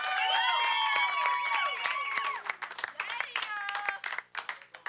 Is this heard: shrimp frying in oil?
no